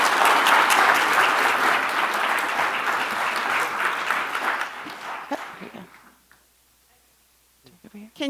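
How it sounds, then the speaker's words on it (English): Summit audience applause following a keynote, dense clapping from a large crowd that stays loud for several seconds, thins out and fades to near silence, with a few scattered claps and brief sounds at the end. "Can you give them all another round of applause, please?"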